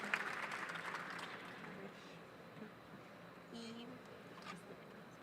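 Audience applauding at a nursing ceremony honoring critical care nurse specialists, a fairly faint, diffuse round of clapping in a hall with some background voices.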